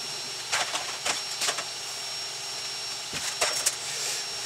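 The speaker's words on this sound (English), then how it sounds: "The printer is printing away" A Creality Ender-3 S1 Pro 3D printer runs steadily, with a constant whirring fan-like hiss and faint rhythmic clicks and ticks from its moving parts, nearby and moderately quiet.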